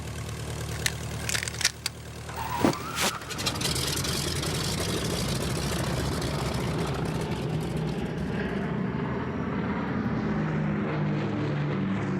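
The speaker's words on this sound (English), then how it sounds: "An armada of support aircraft followed Kennedy's plane into the air" Propeller aircraft engines of a support armada droning loudly as planes take off, a steady heavy roar that builds and holds throughout, with a few sharp clanks and knocks early on.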